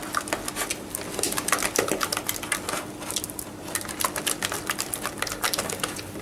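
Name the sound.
beating soft polenta with butter and cheese in a pan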